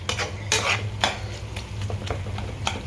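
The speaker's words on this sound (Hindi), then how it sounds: "घी बन रहा है।" Ghee being made from homemade malai in a pan on the stove, with a spoon scraping and stirring in repeated strokes over a faint sizzle, and no talking.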